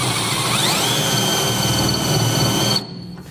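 Power drill with a 1/2-inch bit marking the frame of a 1996 Ford F-250 truck, a steady close whine that rises in pitch as it spins up, then cuts off abruptly.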